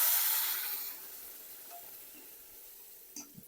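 A soft hiss of frying fades from a brief loud sizzle into a quiet steady crackle as boiled chili vegetables go into a hot pan, with a couple of faint clinks near the end.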